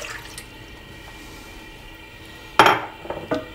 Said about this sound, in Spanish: Ponemos un cazo al fuego con el agua